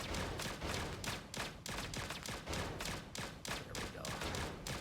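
Rapid, steady bursts of gunfire keep going nonstop as enemies are shot in Atari's Berzerk Recharged, played on a Legion Go handheld. The shots are close and evenly spaced, with no voices over them.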